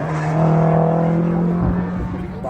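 A rally car on a stage of the McRae Rally Challenge rushes past close by, its engine rising then fading, with a tonal roar and gravelly noise; spectator chatter is faintly audible beneath.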